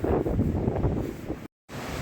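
Strong wind at Keswick in the Lake District, England, buffeting the microphone, a loud low roaring rush with gusty fluctuations, briefly cut to silence before resuming.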